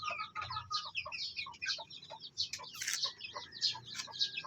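A hen clucking repeatedly in a soft, broken rhythm among other chickens, nearby and moderately loud, with occasional sharper calls layered over a low farmyard background.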